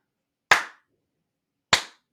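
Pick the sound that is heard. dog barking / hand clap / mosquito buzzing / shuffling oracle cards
hand clap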